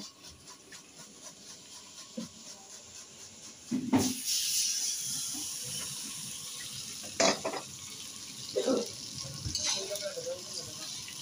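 A spoon scrapes and stirs food in a hot frying pan in a home kitchen, several sharp clanks against the pan standing out over a steady low sizzle, with people talking faintly nearby.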